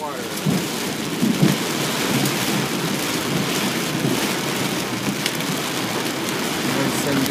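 Heavy rain storm with thunder pounding down steadily and loud throughout, a dense wash of rainfall with low rumbles and brief bursts, no talk over it.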